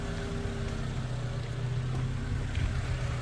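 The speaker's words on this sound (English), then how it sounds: "Engine's ticking along. A little bit of that surge, and you can hear the fans kicked in now" A Proton 1.5 SE car engine idles steadily with a low, even hum and slight surging, its radiator cooling fans whirring continuously alongside, heard close and fairly quiet with no talking.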